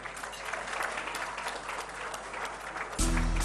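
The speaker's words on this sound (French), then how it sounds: "messieurs, ça mérite des applaudissements" Audience applause at a Mali bank award ceremony, dense steady clapping from a crowded room that holds even, then a low hum and music swell in near the end.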